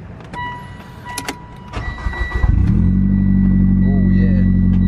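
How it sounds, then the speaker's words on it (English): A car engine cold-starts up close: a brief cranking whir, then it catches and settles into a loud, steady idle, after a few clicks and a short voice at the start. "Alright, let's cold start this baby."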